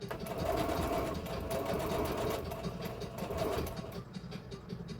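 Sewing machine running a straight stitch on fleece blanket material, a steady close mechanical whirring with a rapid rhythmic needle chatter that slows slightly near the end.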